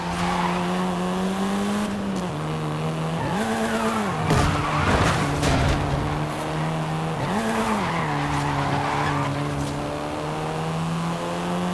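A Volkswagen Golf R races in the Forza 5 video game, its engine droning and rising and falling with gear changes, tires squealing and skidding through corners, loud and continuous.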